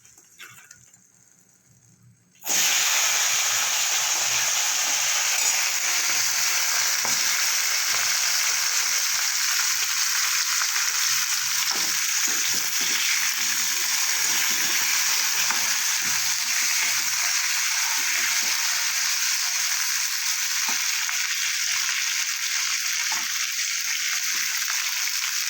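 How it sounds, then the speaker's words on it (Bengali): Flat beans fry lightly in hot oil after fish, and a loud, steady sizzle starts abruptly after a quiet moment and keeps going evenly, close up. "ওই তেলে আমি শিমগুলো একটু হালকা করে ভেজে নেব"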